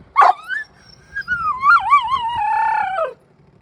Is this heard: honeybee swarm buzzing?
no